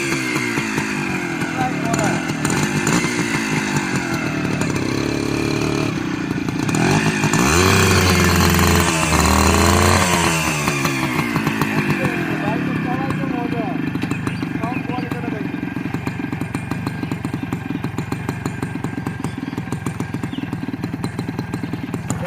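A motorcycle engine runs steadily and close by, rising briefly as it is revved and then settling back to a rough, even idle. A voice talks over it throughout.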